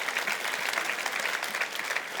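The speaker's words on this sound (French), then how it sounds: "and you continue to applaud." A church congregation at a sermon applauds in a steady, dense wash of clapping, moderately distant and even in level throughout, with no voices standing out.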